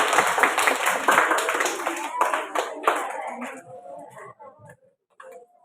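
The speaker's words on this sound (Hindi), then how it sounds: "तो एक बार जोरदार ताली बजाकर इनका स्वागत करें" An audience at a Vijay Diwas gathering for children claps loudly to welcome a guest speaker; the brisk applause lasts about three seconds, then thins out and stops as a voice carries on.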